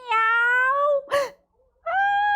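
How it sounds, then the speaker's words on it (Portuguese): A cat meows twice, close and loud, with a sharp short sound between the two calls and a brief pause before the second drawn-out meow. "Aí ela ouviu miau."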